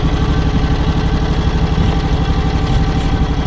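A John Deere X724 lawn tractor fitted with a 54-inch snow blower runs at high idle, around half throttle, outdoors in snow, giving a loud, close, steady engine drone with a low rumbling vibration throughout.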